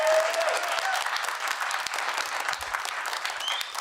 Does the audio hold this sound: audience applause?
yes